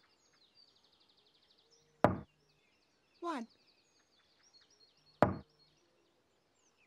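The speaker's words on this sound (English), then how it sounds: "Tinky Winky knocked on the door." Two sharp knocks on a wooden door, loud and close, spaced a few seconds apart, with a brief voice between them counting aloud in a 1998 children's TV show.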